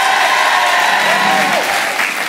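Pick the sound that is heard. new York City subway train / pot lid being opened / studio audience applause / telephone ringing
studio audience applause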